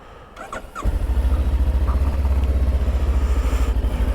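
A Voge 525 DSX twin-cylinder motorcycle starts with a brief cranking whirr, then catches and settles into a loud, steady, close idle with an even pulsing beat.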